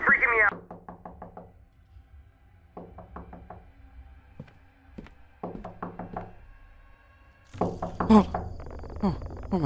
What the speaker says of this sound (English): Been knocking for hours.